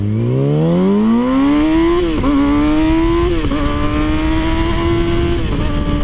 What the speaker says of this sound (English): So let's do just a first gear pull